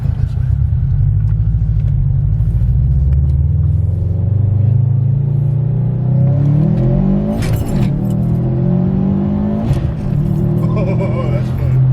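Subaru WRX STI sedan engine pulls hard under acceleration on a straight road, a loud continuous drone rising steadily in pitch as it revs, with a couple of quick shift dips near the end and voices talking over it.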